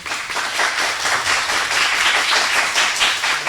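Dense, steady applause from a studio audience welcoming a high school team at a televised school quiz competition, filling the whole stretch with even, busy clapping and no voices on top.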